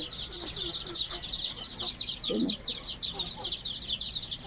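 Chickens cluck softly in a backyard coop, a few short intermittent calls over a steady bed of high, shrill background chirring.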